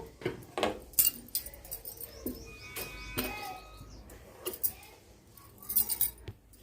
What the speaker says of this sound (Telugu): ఇప్పుడు మార్కింగ్ చేసుకున్న దాని ప్రకారంగా కట్ చేసుకోవాలి